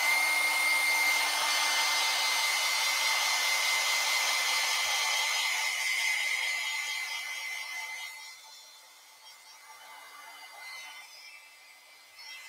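Hair dryer blowing on watercolor paint, a loud continuous high-pitched whine and rush of air that drops in level partway through as the dryer is moved away, then continues more quietly.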